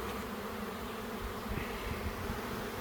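A swarm of honeybees flies in the air near empty hive boxes, a soft, steady drone of many wings humming together, faint and continuous with slight swells as bees pass closer.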